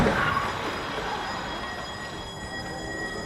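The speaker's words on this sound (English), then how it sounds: "Jedzie tramwaj, kierowca patrzy na telefon" A tram rolls past on its rails, a loud close steel rumble with a faint wheel squeal and high whine that fade slowly, heard alone.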